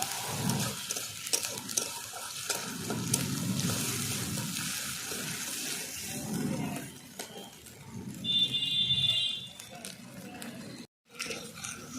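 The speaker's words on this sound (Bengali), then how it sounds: "জিরে বাটা আদা বাটা রসুন বাটা আর লঙ্কা বাটা একসঙ্গে কষিয়ে নেব" Cumin, ginger, garlic and chili pastes fry in a pan while being stirred, with soft sizzling and scraping strokes of a spoon in uneven bursts, fairly close, plus a brief high clink near the end.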